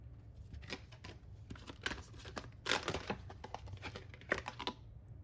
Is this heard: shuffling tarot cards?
yes